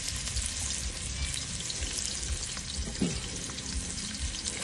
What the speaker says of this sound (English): I'm going to put my onions through. As you can hear, whoa, what a beautiful sizzle.